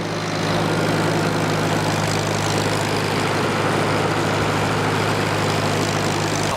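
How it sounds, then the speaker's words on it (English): An old tractor engine running a belt to a threshing machine chugs steadily nearby with a constant low drone and whirring, unbroken throughout, no voices. "Look at this old-fashioned tractor running the belt"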